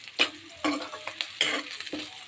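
Crushed onion and garlic fry in ghee while a spoon scrapes and stirs the pan in short, uneven bursts; a faint sizzle runs beneath the close strokes, all without speech.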